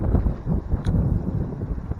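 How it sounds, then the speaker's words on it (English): Steady wind buffets the microphone outdoors during bass fishing on a windy day, a low continuous rumble with gusty swells and no talking. "the wind is blowing pretty good right now"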